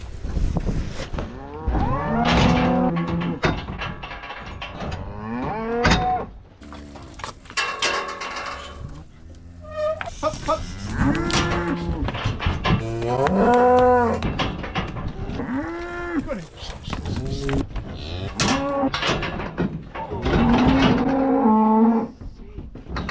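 Calves penned together on a cattle farm moo repeatedly and loudly, several overlapping calls rising and falling throughout, close by and nearly continuous, with no talking.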